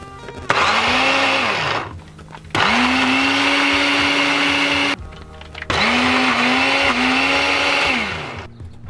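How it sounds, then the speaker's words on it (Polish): A countertop blender whirs loudly in three long bursts while blending pesto, each run starting with a rising motor pitch and dropping between bursts. "Jednak chyba najlepiej robić to takim blenderem, takim, co tak się dociska."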